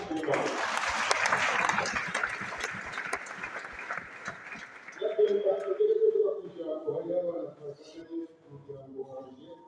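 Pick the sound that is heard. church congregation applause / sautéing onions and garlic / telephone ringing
church congregation applause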